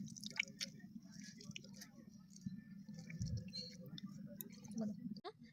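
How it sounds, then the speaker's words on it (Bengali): Tomatoes are squeezed by hand through a strainer to separate the juice, giving faint, soft squelches and drips close by, with low background murmur. "এখন দেখো খুব সুন্দরভাবে কিন্তু আমি জুসটা ছেঁকে নেবো একদম 1 মিনিটে।"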